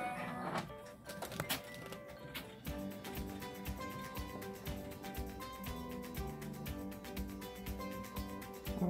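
An embroidery machine stitches out the outline template for an in-the-hoop angle strip quilt block: a dense, steady run of fast mechanical ticks and clatter continuing at an even level throughout, close by, with no voices.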